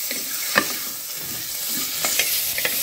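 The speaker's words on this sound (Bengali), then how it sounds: "চিকেনটা দিয়ে আমি 1 মিনিটের মতো ভেজে নেব" Chicken pieces frying in a pan for chicken soup, an even close sizzle broken by a few clattering stirs.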